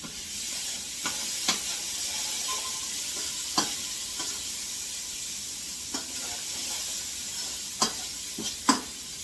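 Lasagna ingredients sizzle steadily in a pan, a constant close frying hiss broken by occasional sharp clicks and taps from stirring.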